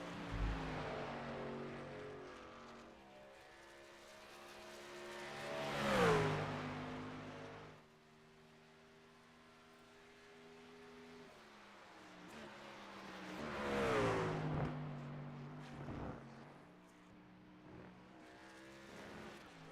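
Race truck engine in a racing video game lapping Watkins Glen, droning steadily and swelling twice into loud high-revving passes with shifting pitch, then easing back between them.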